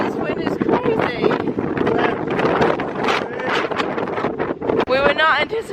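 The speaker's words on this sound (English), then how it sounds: "We were not anticipating this wind. It's very, very strong." Strong gusts of wind buffet the microphone at the Aberystwyth seaside, a loud, continuous roar that rises and falls with people talking throughout.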